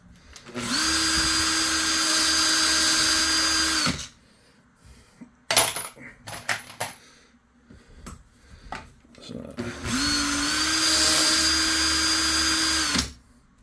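A powered case trimmer cuts 6.5 Creedmoor rifle brass cases in two steady, whirring runs of a few seconds each, separated by clinks and rattles of brass being handled.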